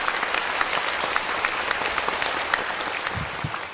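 An audience at a spiritual talk claps together, a dense, even patter of applause with a few louder individual claps near the end.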